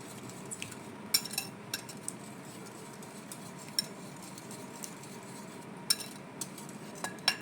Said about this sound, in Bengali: এবার আমি এটা ভালো করে ফেটে নেব